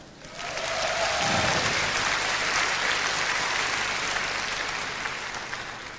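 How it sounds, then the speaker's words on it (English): A Eurovision audience gives sustained, heavy applause for the Swedish entry's songwriter and composer, a loud, even roar of clapping from a large hall that stays steady and eases slightly at the end. "Everybody's getting a round of applause tonight"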